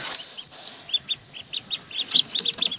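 Newly hatched chicks inside a homemade incubator peep in rapid, high, shrill chirps, a close series of short calls that grow busier partway through.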